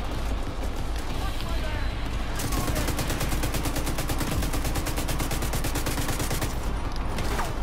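Rapid automatic gunfire from a weapon in The Division 2 rattles in a dense, continuous burst for several seconds, loud and close, over a background of other game noise.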